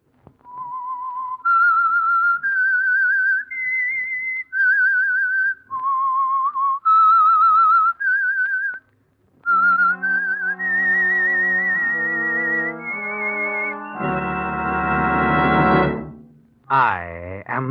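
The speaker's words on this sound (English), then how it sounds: "That whistle is your signal for the Signal Oil Program" A whistled melody, the theme signal of the radio mystery program The Whistler, rises and falls in clear sustained notes alone, then gives way to a swelling orchestral chord and a closing sting.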